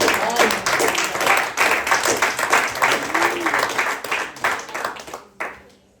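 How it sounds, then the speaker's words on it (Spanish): Congregation at a Friday evening church service clapping in praise, lively and uneven applause with some individual claps standing out, a faint voice mixed in, fading near the end. "Denle un fuerte aplauso al Señor"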